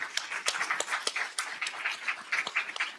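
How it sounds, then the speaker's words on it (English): Audience applause for a panel at a space-workforce event, steady light clapping from a room of people with sharp individual claps standing out, moderately loud and continuous with no speech over it. "They deserve another round of applause."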